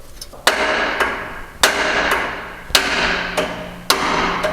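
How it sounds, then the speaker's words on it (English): A hammer strikes a sacrificial nut to drive out a stubborn suspension part on a Mercedes ML W163, giving five sharp metallic taps at steady intervals, each ringing briefly, close and loud. "I can just tap that with the hammer to get it to come out"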